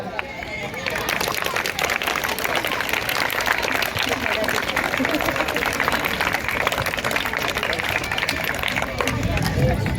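Sustained applause from a large crowd at a school annual sports festival, dense clapping that starts after a moment and continues steadily throughout with some crowd murmur.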